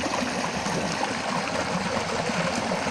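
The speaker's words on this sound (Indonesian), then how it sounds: "Itu air terjun dan Mogimputa." A waterfall pours with a steady, broad rushing and splashing that stays even and close throughout, with no voices.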